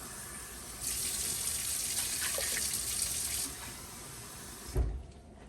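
Cold tap water runs from a faucet into a measuring cup in a kitchen, a steady splashing stream lasting a few seconds before cutting off with a soft thump.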